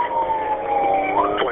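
A police car siren wails continuously during a highway pursuit, a loud steady tone that rises at the end, with no other sounds over it.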